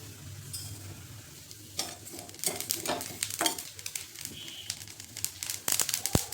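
Sesame seeds dry-roasting on a low flame crackle and rustle as they are stirred, with irregular scraping bursts and small pops, moderately close and not loud.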